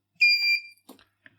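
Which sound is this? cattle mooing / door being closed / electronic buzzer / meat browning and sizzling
electronic buzzer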